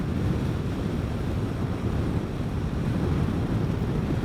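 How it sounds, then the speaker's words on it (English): Loud wind buffeting a motorcycle rider's helmet and microphone on a Vespa GTS 300 Super Sport during a country ride, a continuous low roaring rumble with no talking. "I don't know how that wind sounds"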